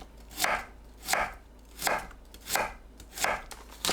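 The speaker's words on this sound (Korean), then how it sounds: "무를 한입 크기로 납작하게 썰어주세요" A knife slices radish into flat bite-sized pieces on a cutting board for fish cake soup, giving five crisp, evenly spaced chops close up with no talking.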